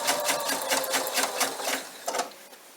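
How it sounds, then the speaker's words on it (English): A sewing machine runs a lock stitch across the short end of fabric in a fast, rhythmic, close-up whir of needle strokes, continuing steadily with a brief pause near the end. "So, sew across the short end. It's a lock stitch."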